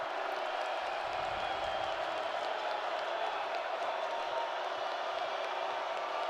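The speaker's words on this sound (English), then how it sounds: "the Vandal crowd trying to get into it" A home crowd of Idaho Vandals fans roaring at a college football game, a broad, continuous wash of distant cheering and noise rising in the stadium, with a commentator's voice faintly over it.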